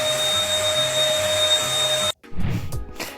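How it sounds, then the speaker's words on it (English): A vacuum cleaner runs in a restaurant at closing time, giving a loud, steady whine with a faint hum for about two seconds before cutting off abruptly, followed by a short burst of low clattering. "I'm gonna start vacuuming"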